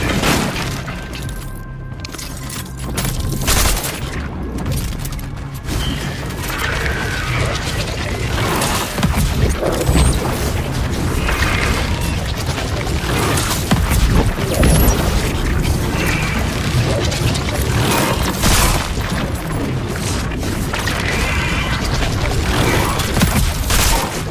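Continuous gunfire and explosions in the video game Cronos: The New Dawn, a dense, loud barrage of shots and booms with crashing debris running throughout.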